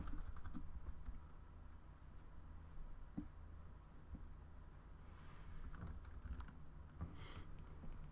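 Fingers tap out a comment on a computer keyboard, a quiet, uneven patter of key clicks over a low room hum with no voices.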